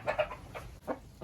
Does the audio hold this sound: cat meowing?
no